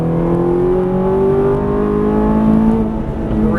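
Ferrari 430 engine pulling hard on a race track, a steady loud drone with the pitch climbing smoothly under full throttle, close and continuous throughout.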